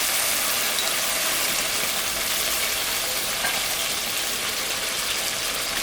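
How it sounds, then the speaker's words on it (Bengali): Water hits a hot pan of ash gourd curry with ginger, cumin and ripe chilli, giving a steady, loud, close hiss of sizzling and bubbling that holds evenly throughout. "সামান্য একটু জল দিই।"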